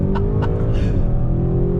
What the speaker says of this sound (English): I'm gonna actually come to a dead stop and do the launch control.